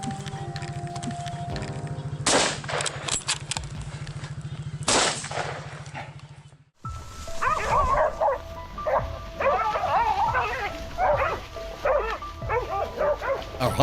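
A hunting dog on a wild boar hunt in a swamp with tall reeds, barking in sharp repeated bursts, first against a low droning hum and then amid a busier, noisier stretch with a loud crack.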